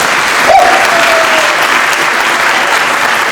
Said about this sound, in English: And let's give one more round of applause for these 4th graders.